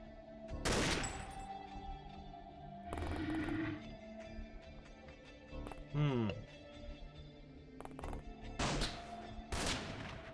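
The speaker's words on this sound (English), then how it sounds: "They're shooting at me." Enemy gunfire in The Xcom Files, several loud separate bursts and bangs spaced through the clip, with a person talking between them and a descending whooshing effect.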